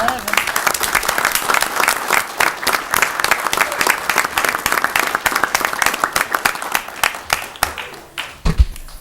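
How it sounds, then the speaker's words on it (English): A village board meeting audience applauds, with many hands clapping in a lively, fairly close patter for about nine seconds before it thins and stops. "I think we should applaud these gentlemen."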